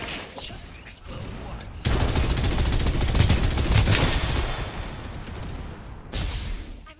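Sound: gunfire in the video game Farlight 84

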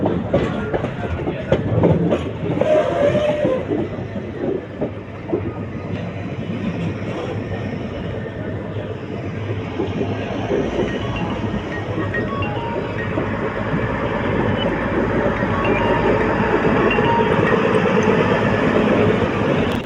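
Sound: train arriving at Palakkad Junction platform one

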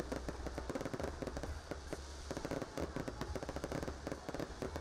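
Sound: low-altitude New Year's Eve fireworks display

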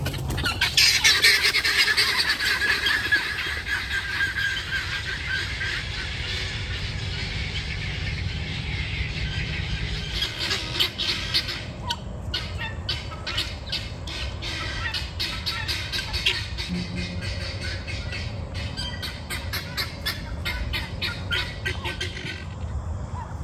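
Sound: birds squawking

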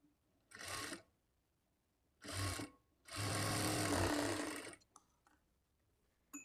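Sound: sewing machine stitching blouse lining

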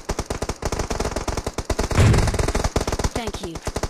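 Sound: gunfire in video game PUBG Mobile

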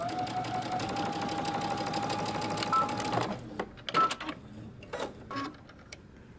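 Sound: sewing machine backstitching a mini hoodie seam

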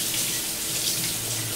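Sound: kitchen sink faucet running water while washing dishes

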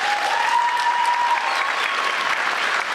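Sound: theatre audience giving a standing ovation

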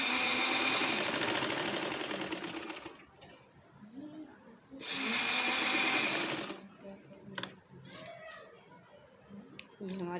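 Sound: sewing machine stitching gum lace onto kameez

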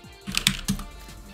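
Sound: typing a command on a computer keyboard

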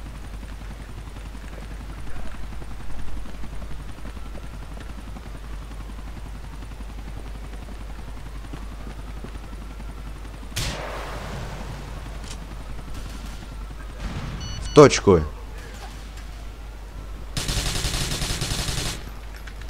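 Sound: gunfire in Grand Theft Auto IV video game

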